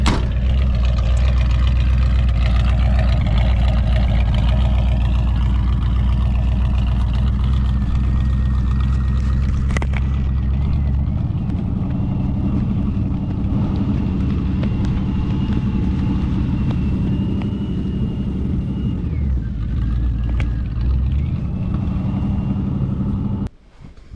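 An old Jeep Wagoneer's engine runs loud with a deep low rumble as it starts rolling off, a steady throbbing drone that shifts slightly midway and cuts out abruptly at the end.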